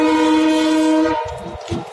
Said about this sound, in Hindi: ये सामने से ट्रेन आ रही है विद WDP4 लोकोमोटिव।